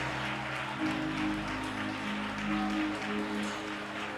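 Church congregation clapping hands together, a steady sustained patter of applause filling the room at moderate loudness with no voices on top.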